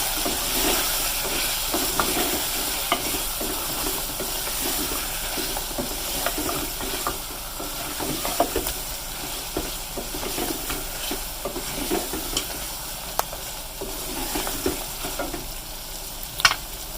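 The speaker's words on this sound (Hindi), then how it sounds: "अच्छी तरह मिक्स करेंगे इसको।" Beef karahi being stirred in a hot pan after red chili and turmeric go in, a steady sizzle and hiss with scraping spoon strokes and a few sharp clinks, close and continuous with no talk.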